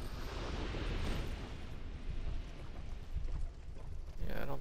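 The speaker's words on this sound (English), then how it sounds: "First, we have some fire bombs actually. An exploding dude." Fire bomb explosions from an exploding enemy in Dark Souls 2 rumble as a dense, continuous roar with crackling bursts, ending in a louder blast near the close.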